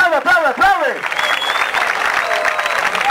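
Audience at a Red Bull rap battle semifinal breaks into loud, sustained applause and clapping, with a shouting voice over it during the first second before the crowd noise fills the rest.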